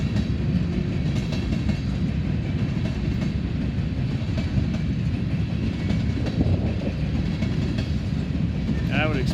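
Empty freight train cars roll past steadily in northern Ohio, a continuous loud rumble with rhythmic clicking of wheels over rail joints, brief high squeal near the end.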